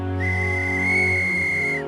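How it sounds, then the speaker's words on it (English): A single long whistle blast holds a steady high pitch for nearly two seconds, clear and fairly close, then cuts off. "there's the whistle"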